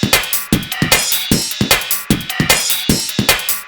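Drum and bass top loop from a late-1990s Ubershell sample CD, a fast, bright breakbeat with crisp snares and hats repeating in a tight, driving rhythm, played dry and loud with little low end.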